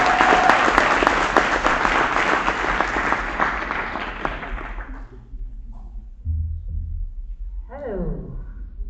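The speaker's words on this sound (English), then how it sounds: "Generous round of applause." An audience at the Legae Academy 2022 award ceremony gives a loud round of applause that thins and fades out after a few seconds, followed by quieter room sounds and a brief voice near the end.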